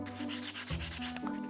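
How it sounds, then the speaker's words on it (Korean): Sandpaper rubbing over a deliberately patterned surface on an art piece, a steady close scratchy grinding with rhythmic strokes and no voices. "사포가 이렇게 갈리면서"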